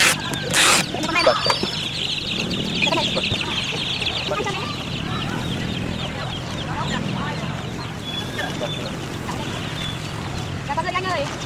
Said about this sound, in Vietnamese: Gà con rất to nè